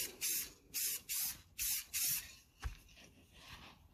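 Clear coat spray paint hisses from an aerosol can in five short bursts with even pauses between them, close and crisp, followed by a faint rattle and quieter handling sounds.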